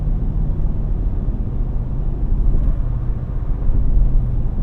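Steady low drone of a 2025 Toyota Tacoma TRD Pro with a V6 accelerating on 33-inch Goodyear tires, heard from the cabin as a dense rumble that swells gradually.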